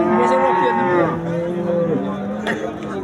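A cow with a newborn calf at a cattle market lows loudly and nearby in one long, wavering moo lasting about three seconds.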